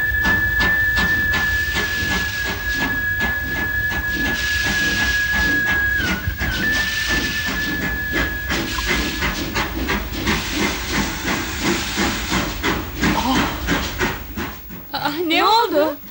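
A steam train hisses steadily throughout with a sustained whistle tone, set in an old Turkish film, with rhythmic chuffing and people talking over it.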